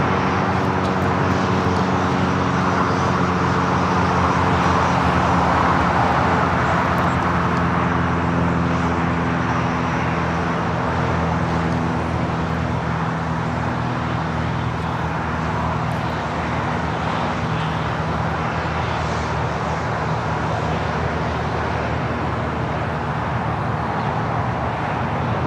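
An Airbus A350-900 airliner at LAX airport gives a continuous loud broadband jet roar with low engine hum, steady throughout and slowly easing off slightly over the length.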